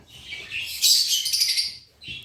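Shrill, rapid lovebird chirping close by, a busy burst of tweets followed by a brief pause and one short final chirp.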